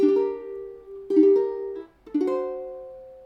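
Three ukulele chords from a song strummed one after another, each ringing out clearly and close before the next, with no voice.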